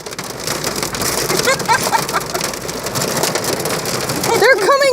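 Large hailstones pelt a car during a thunderstorm, a dense, loud, continuous clatter of hard impacts on the body with rain behind, while excited voices call out over it.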